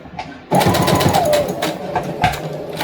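A sewing machine stitching a fabric lanyard starts up abruptly and runs in a steady, close mechanical whir while doing a short back stitch, with a slight change in pitch midway.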